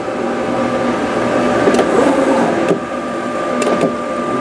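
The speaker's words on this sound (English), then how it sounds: "It's also American made machine, made in Connecticut. A company called Gerber." An American-made Gerber automated upholstery cutting machine, built in Connecticut, runs in a car trim shop working on a Jaguar MK 5 saloon, giving a steady electric hum with a few brief sharper clicks.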